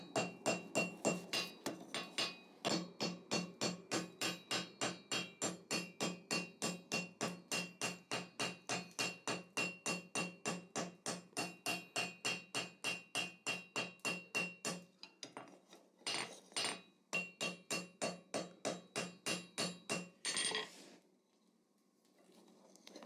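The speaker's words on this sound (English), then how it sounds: "So we can use the ball peen to create a bit of a domed rivet head." A ball peen hammer strikes a rivet head on a pair of forged scrolling tongs in a long, steady run of sharp metallic blows at a quick even rhythm, with a brief pause partway through and a final few hits, close and loud.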